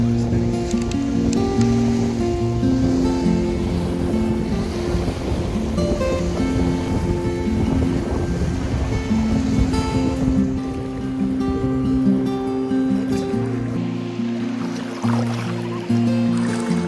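Sea waves at a Bulgarian beach wash in as a continuous loud surf, with tonal music layered over the top.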